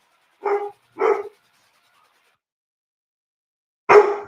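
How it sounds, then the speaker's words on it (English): A dog barks indoors: two quick close barks, a pause of nearly three seconds, then a third louder bark, all in otherwise silent surroundings. "That's my dog."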